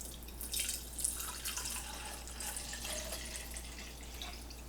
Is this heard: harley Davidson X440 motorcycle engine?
no